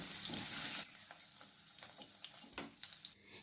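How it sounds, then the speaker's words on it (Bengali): Oil sizzles steadily with a bright hiss, broken by a few soft clinks and scrapes of a utensil turning duck eggs. "ডিমের দুপাশটা এরকম করে উল্টে পাল্টে ভেজে নিচ্ছি"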